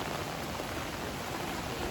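Monsoon rain in a Konkan village in Sindhudurg, a soft, even, continuous hiss of falling drops with no other sounds standing out.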